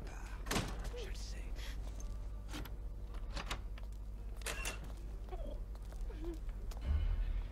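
Doors being opened in the video game Mafia 3, heard as a few sharp thuds and knocks over a steady low game rumble, with a heavier bump near the end.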